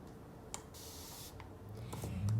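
Rose water is misted onto hair from a spray bottle in a short, close hiss, with faint clicks around it and a low voice starting at the end.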